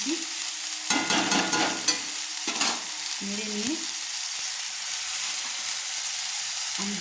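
Spices being stirred into onion paste in a pan for prawn malai curry, with a steady soft sizzle and several bursts of scraping spatula strokes, close and fairly loud, no talking.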